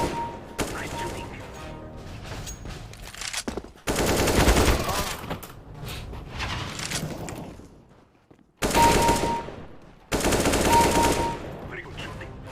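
Rapid automatic gunfire in a first-person shooter deathmatch, dense bursts of rattling shots broken by short pauses and a near-silent gap, loud and close.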